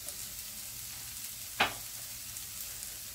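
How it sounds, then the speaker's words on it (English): Vegetables and chili powder, paprika, cumin and coriander frying in a pan, a steady soft sizzle with one brief scrape of a stir near the middle, no talking. "Give it a stir."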